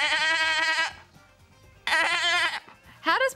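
Two loud, wavering goat-like bleats from a person imitating the animal, with a short rising bleat at the end; breathy sounds between them.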